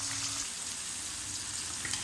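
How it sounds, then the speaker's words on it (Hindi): Fish sizzles in a frying pan for fish pulao, a soft, even crackle that hisses steadily throughout with no other sounds. "मेरी फ़िश भी अच्छी से फ्राई हो रही है"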